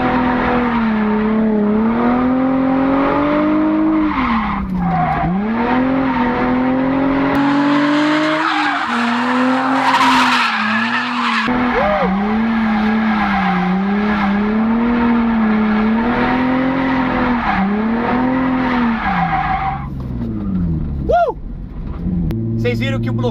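A drift car fitted with a locked differential squeals its tires in long, wavering screeches over a loud revving engine, the pitch sliding up and down as the car slides repeatedly through about twenty seconds.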